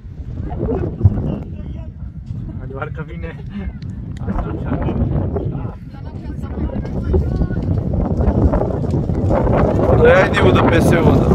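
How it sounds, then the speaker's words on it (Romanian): Wind buffets the microphone at an outdoor amateur 11-a-side football match, a rough, gusting roar that rises and falls and grows stronger toward the end, with people talking over it. "Hai că deranjează vântul."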